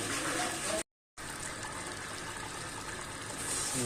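Water gushes steadily into a pot of fish curry being cooked for gravy, a constant splashing rush broken by one short gap.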